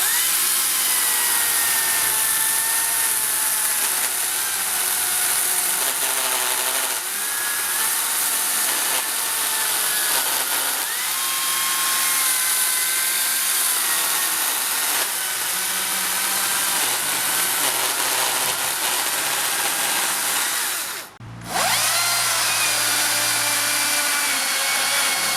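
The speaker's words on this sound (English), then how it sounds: "that is one of the hardest cuts you can do with a chainsaw, cutting directly into the end grain like that" A Makita 40v cordless rear-handle chainsaw with a 450mm bar bores into the end grain of wood, its high, loud buzzing whine running continuously with a rough chatter, then cutting out for a moment near the end before resuming.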